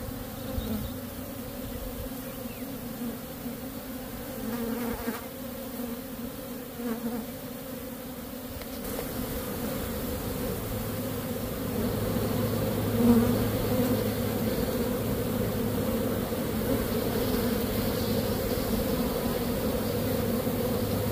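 Honeybees buzz in a dense, continuous drone around an open hive during Nicot-system queen rearing. The sound is close and steady throughout and grows slightly louder in the second half.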